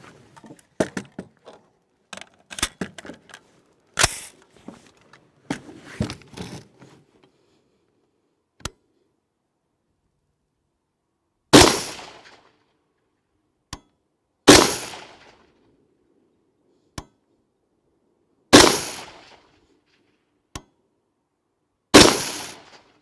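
Rifle shots fired with iron sights at a 25-meter range for a grouping drill: a cluster of sharp cracks and clicks early on, then several loud, evenly spaced single shots ringing out with short decays.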